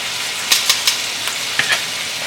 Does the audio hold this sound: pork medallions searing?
yes